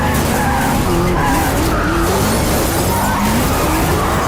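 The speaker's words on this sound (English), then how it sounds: "The stuntman just so happened to crash into the Corvette during the chaotic chase scene" A Saleen Mustang skids hard and crashes into a Corvette in a chaotic movie chase, with loud continuous tire squeal and engine roar layered with music throughout.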